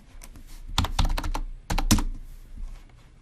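Fingers type on a computer keyboard while working in the Sinumerik Trace Tool for HMI Advanced, producing two loud, quick bursts of keystrokes over a low background hum, with no talking.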